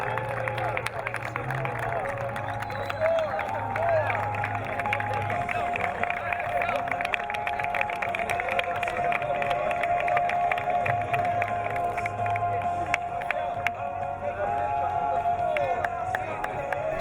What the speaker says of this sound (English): a great big round of applause for the Bronx Community College